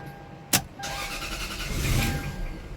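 A Lexus GS400 with a crank-and-stall fault and electronic throttle: a sharp click, then the engine running with a steady, slightly swelling drone as the accelerator is pressed, close by and with no voices.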